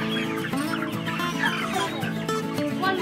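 Young pastured meat chickens cluck continuously at close range, a dense overlapping flock chorus of chattering calls that stays steady and fairly loud throughout, with no voices over it.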